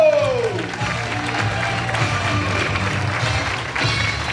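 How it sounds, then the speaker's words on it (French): An audience at the Escale d'Humour comedy festival in Royan, 2015, claps in a full, sustained round of applause, with a voice speaking briefly at the start before the clapping carries on alone. "Applaudissez bien fort Mathilde Moreau."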